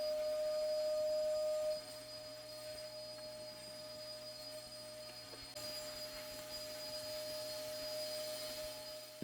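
Shop vacuum with a brush attachment runs steadily, its motor whine constant and fairly loud throughout, with a slight drop in level after the opening seconds while cleaning a high, neglected area.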